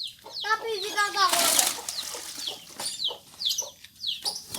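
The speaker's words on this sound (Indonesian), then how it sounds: "Ada anak ayam." Small chicks peep in quick, high, sliding calls, close and repeated, mixed with hen-like clucks and a brief burst of flapping or splashing.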